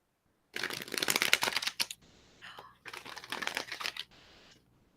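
Tarot cards being shuffled close up, two crisp riffling bursts of about a second and a half each, with a quieter fumbling of the deck in between and a brief pause after.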